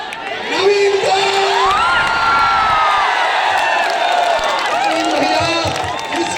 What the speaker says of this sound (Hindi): इसके लिए तालियों की गड़गड़ाहट के साथ आदरणीय नवीन भैया बहुत बहुत बधाई।